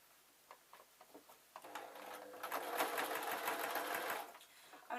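Sewing machine stitching fleece for a jester slipper, starting with a few light taps, then a steady, fairly close whirring run of fast stitches for about two and a half seconds before slowing to a stop.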